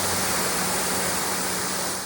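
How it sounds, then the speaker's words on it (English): An AVA Evolution P80 pressure washer sprays with its Vario nozzle on wide spray mode, producing a steady, loud hiss of water close by with no pauses. "First the Vario nozzle on the wide spray mode."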